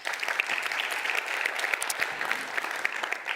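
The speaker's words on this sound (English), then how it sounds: "And now we clap anyway, yes." Audience at a social innovation pitching competition applauds steadily for a jury member, a dense, even patter of many hands clapping throughout with no pauses.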